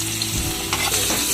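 Garlic and onion frying in a pan over an outdoor forest cooking fire, a steady close sizzle with brief stirring scrapes.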